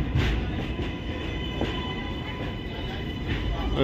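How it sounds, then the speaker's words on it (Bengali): A New York City 7 subway train arrives at Flushing, rumbling steadily nearby with a continuous low roar and faint high squeal, its noise filling the space without pause. "এই আমাদের ট্রেন চলে এলো 7 নম্বর ভোতামুখের মেট্রো"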